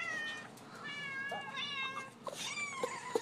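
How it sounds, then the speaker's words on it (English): Repeated drawn-out cat meows play from a cat video on a device, several rising and falling cries in quick succession, fairly faint and indoors with a few soft knocks between them. "See, I'm playing it in the YouTube cat video,"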